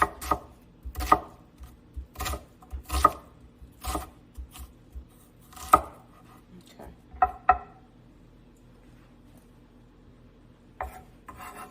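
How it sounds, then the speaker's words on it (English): A knife chopping onions on a board, roughly a dozen crisp, evenly spaced cuts about a second apart, then a short pause before a couple more, close and clear. "So I'm cutting some onions."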